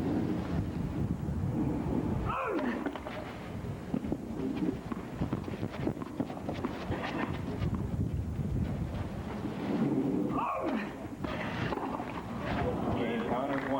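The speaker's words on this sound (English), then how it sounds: "we have these gusty, windy conditions" Gusty wind buffets the microphone in a steady low rumble during a 1994 tennis match, with a commentator speaking over it and occasional background noise.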